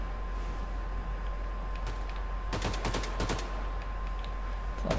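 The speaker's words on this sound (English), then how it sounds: "We are doing some serious shooting" Gunfire in Wolfenstein 2 The New Colossus, a cluster of sharp loud shots fired in quick bursts midway through over a steady background hum, with no talking.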